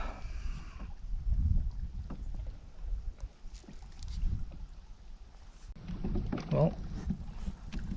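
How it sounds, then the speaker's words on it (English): A small boat paddled across a windy lake at Lake of the Woods near Nestor Falls, with soft water strokes and splashes over steady wind rumble across the clip, plus faint human sounds at times. "I went for a bit of a paddle around the corner to get away from the wind, or try to."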